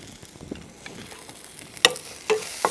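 Vegetables with turmeric and salt frying for a Kerala-style thoran produce a faint, low sizzle with a few light taps and scrapes of a spoon stirring the pan.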